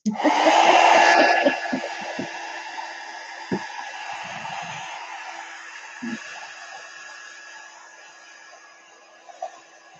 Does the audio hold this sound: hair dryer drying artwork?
yes